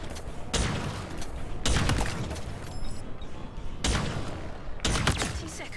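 A weapon fires in Halo Infinite, several loud bursts of rapid gunfire separated by short gaps, with someone talking over the shots.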